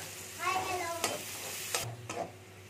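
Chopped onions sizzle faintly in a pan while a utensil scrapes and stirs a few times, soft and close, with a brief tonal whine early on.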